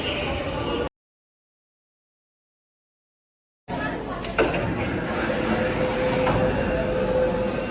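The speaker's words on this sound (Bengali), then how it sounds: "এখন প্রবেশ করছি মেট্রোতে দেখতে পাচ্ছ হাওড়া মেট্রো" A Kolkata metro train at Howrah station gives a steady broadband rumble with a thin sustained whine after a brief cut to silence, while voices talk over it.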